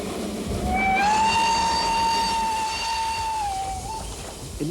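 A freight train arriving at Chemnitz, Germany, gives a long, steady whistle tone with faint harmonics that holds for about three seconds over a low rumble of rail noise, then bends down and fades.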